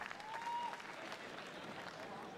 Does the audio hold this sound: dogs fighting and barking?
no